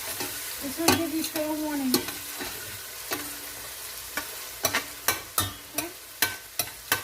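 A pan of light golden frying for a Bologna-style bolognese ragu gets stirred, with a low sizzle beneath sharp spoon clacks against the pan that come quicker toward the end, close by, while someone speaks briefly.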